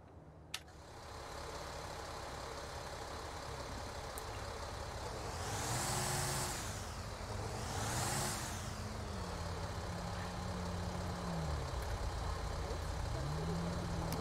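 A Kenworth T680 semi truck in GTA5 cranks and settles into a low, steady diesel idle, with an air-brake hiss and a couple of rising revs. Moderate level, heard alone without voices.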